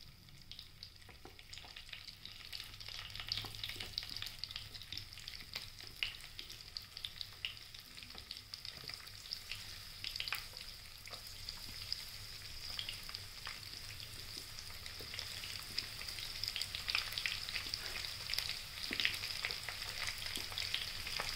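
Stuffed okra (lady fingers) fries in a pan for crispy stuffed bhindi, a close, steady oily sizzle with scattered crackles and pops throughout and no talking.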